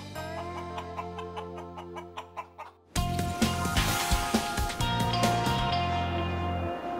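A stray chicken on a seaside street clucking in short bursts, first sparse and close, then mixed into a fuller layer of music and noise.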